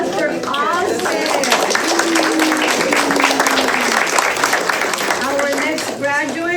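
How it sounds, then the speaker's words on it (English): Applause from a crowd at a kindergarten graduation ceremony, steady clapping throughout with a voice speaking over it. "A huge round of applause for Austin"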